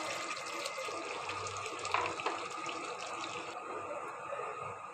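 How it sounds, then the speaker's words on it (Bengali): Broth poured into a pot of chicken curry, a steady splashing stream of liquid that continues for several seconds, moderately close with no talk. "এবার ঝোল দিয়ে দেব"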